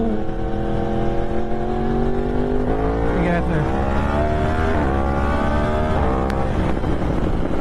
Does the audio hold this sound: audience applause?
no